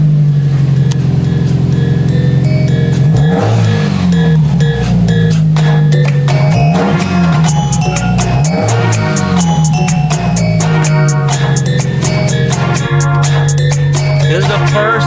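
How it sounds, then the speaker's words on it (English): A 2009 Subaru WRX running a swapped JDM EJ205 engine on its first drive, with a loud, close engine droning and rising through several revving pulls and gear changes, the note climbing and dropping over continuous road noise. "This is the first drive in the Subaru"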